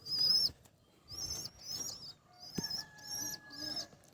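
Pigeons in a cage, country pigeons among them, give several soft bursts of wing flapping and rustling, close by and spaced about half a second apart, with faint bird calls between.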